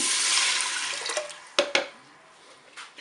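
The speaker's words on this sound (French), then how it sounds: "Je vais maintenant verser le bouillon dans la cuve du cookéo." Broth pouring into the pot of a Cookeo multicooker gives a close, hissing liquid rush that fades out, followed by a few sharp splashes and drips.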